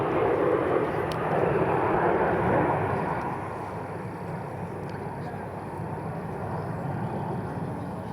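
Aircraft engine roar over a polo field, a broad, steady drone loudest at first and easing slightly as the plane passes, with a commentator talking over it.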